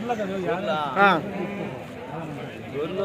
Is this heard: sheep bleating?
yes